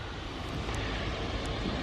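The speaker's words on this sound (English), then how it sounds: "come out here and watch some planes take off" An airplane takes off or lands right beside the runway, producing a steady, loud, broadband engine roar that holds throughout with no talking.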